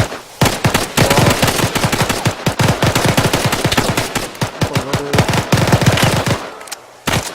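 Sustained automatic gunfire from soldiers in Arma 3 on Tanoa, dense rapid bursts of loud shots overlapping almost without pause for several seconds before cutting off near the end.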